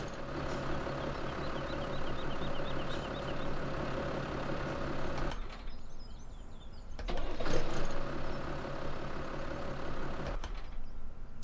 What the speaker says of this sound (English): let's hop into this tractor and turn it on and see what it sounds like.